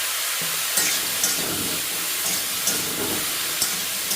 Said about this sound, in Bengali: এইভাবে নেড়ে চেড়ে ভেজে নেব